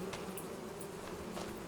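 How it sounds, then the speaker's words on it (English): Faint, steady buzzing of bees in the Farming Simulator 2025 farm game, a low continuous drone off to the right with no voices over it. "Got some bees there on the right."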